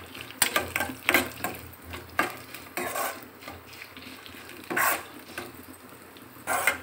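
Frying ingredients for coconut rice with crushed pepper stirred in a pan, with irregular scraping and clattering strokes of a spoon over a low steady sizzle, close by and without speech.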